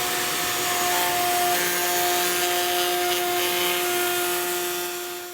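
A router cuts a small route into a wooden guitar body, a loud, steady high-pitched whine with a sustained tonal hum and grinding noise that runs continuously close by, tapering slightly at the end with no talking.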